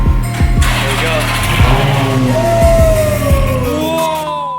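A Ferrari 430 Scuderia fitted with an Agency Power titanium exhaust revs hard, loud and close, with repeated sharp throttle blips climbing into high-pitched wails, while people shout excitedly over it.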